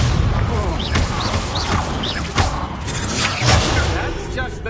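Spell impacts in Hogwarts Legacy, a Harry Potter video game, as Expelliarmus disarming hits land: several sharp thuds and crashes across a busy combat mix, with voices speaking over parts of it.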